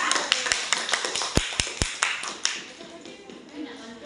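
A classroom group claps for a student, a short burst of scattered hand claps with several sharp loud hits, fading into light shuffling and murmuring voices.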